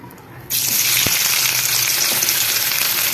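Two large onions, sliced lengthwise, drop into hot Dalda and burst into a loud, steady sizzle of frying that starts abruptly and continues close up with a brief stirring clink.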